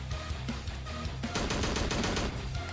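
Rapid gunfire in the horror game Slendytubbies 3, a quick run of sharp shots that starts sparse and becomes a dense, steady burst halfway through, heard alone without talk.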